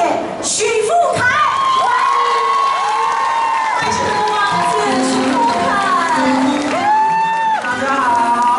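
A hospital audience in Kaohsiung cheers and applauds loudly for a singer, a dense sustained roar of clapping with shouting voices and high whoops, some from children, going on without pause.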